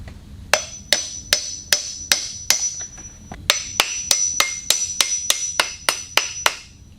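Sharp, ringing hammer blows on metal pieces stuck together on a Chevy LUV truck, about fifteen loud, close strikes in a steady rhythm with a short pause midway and no talking.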